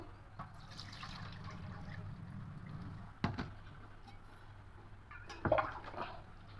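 Dirty rinse water from washing flattened rice (chira) is poured away, a faint, quiet trickle with two brief splashes partway through.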